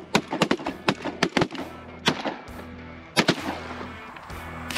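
Shotguns fire at geese during a small-water goose hunt over a cattle pond. A rapid, uneven volley of sharp blasts repeats over a few seconds against steady low rumbling background noise, with the shots loud and close.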